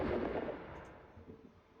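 A single heavy blast from a Warden gun in Minecraft, a deep boom that rumbles and fades out over a second or two, fairly faint.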